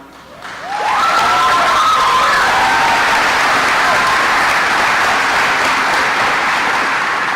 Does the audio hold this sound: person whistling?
no